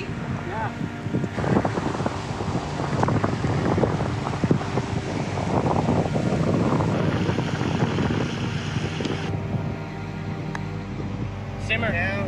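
Steady wind buffets the microphone across an open golf course on a 155-yard par-3 hole, a continuous loud rushing roar that persists throughout with brief voices speaking over it.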